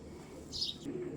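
Racing pigeons give a brief, faint coo with a soft chirp amid quiet background noise; it is a single short call heard close by.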